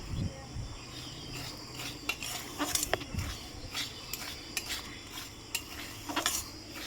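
A spoon scrapes and taps against a pan in irregular strokes as semolina fries in oil, with a soft sizzling hiss underneath.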